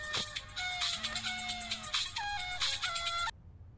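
A phone rings with a bright electronic melodic ringtone, a string of chiming tones for about three seconds that then cuts off abruptly, leaving near silence.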